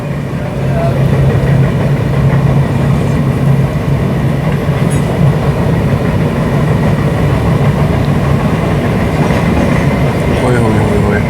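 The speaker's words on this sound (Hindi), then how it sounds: "भाई सब AC लोकल मुंबई राजधानी को ओवरटेक मार रही है।" A Mumbai AC local train runs alongside and overtakes the Mumbai Rajdhani, heard from aboard as a loud, steady rumble of wheels and engine with faint rail clatter throughout.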